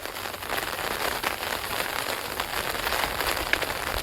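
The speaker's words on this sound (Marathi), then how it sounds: "बेकार पाऊस बेकार." Heavy rain pours down steadily, a dense, constant hiss of water drumming on surfaces with no break from start to finish.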